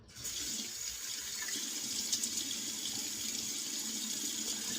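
Tap water runs steadily into a sink while someone wets their face to relather for a shave, a continuous close splashing hiss with no talk.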